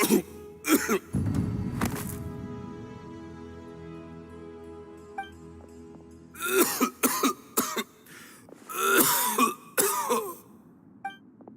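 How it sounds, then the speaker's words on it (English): A video game character, a man, coughs and clears his throat several times, with groaning, harsh coughs in clusters and a stretch of quieter rumbling between them. "Why is he coughing so much?"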